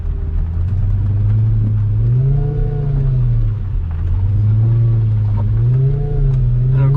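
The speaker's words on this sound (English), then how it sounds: "the Lambo transmission doesn't allow for slow driving" Lamborghini supercar engine while being driven slowly, a loud low rumble that rises and falls in repeated swells as the car creeps forward, up close with no talk.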